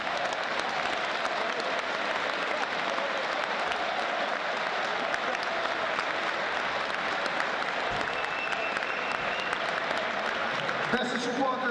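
Football supporters applaud at a youth championship ceremony where the captains receive the title trophy, a continuous loud roar of clapping and crowd noise that holds steady throughout.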